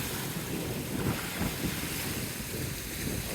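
Ocean waves roll in at a Cancun hotel on the Riu Palace Las Americas beachfront, a steady surf wash heavily mixed with wind buffeting the microphone, with no voices.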